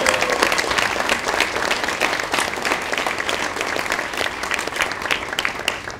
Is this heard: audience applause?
yes